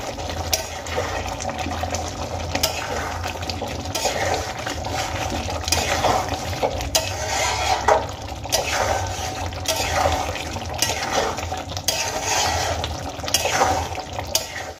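A spatula stirring egg curry with chopped potatoes in a pan, making repeated scraping strokes every second or two over a wet, bubbling background, close and fairly loud.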